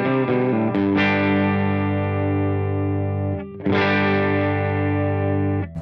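Electric guitar through a Line 6 Helix amp model with the drive engaged and the master turned down to half, sustained distorted chords ringing loud and close, with a brief break near the middle before a fresh strum.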